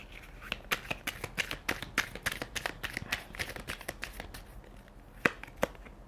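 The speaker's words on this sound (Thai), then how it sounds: "เรามาเปิดไพ่เพิ่มนะคะ" Tarot cards being shuffled and drawn during a reading, with a steady run of crisp, close card flicks and snaps, a few sharper slaps near the end, no talking.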